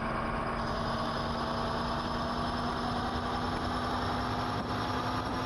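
Two diesel locomotive engines hauling a heavy train on a Chicago subdivision in Train Simulator Classic, a steady, droning idle with a constant low hum and faint vibration, heard alone without talk.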